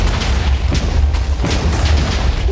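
Laser blasts explode in a Minecraft datapack battle, a dense run of booming impacts and bursts that rumble loudly and continuously.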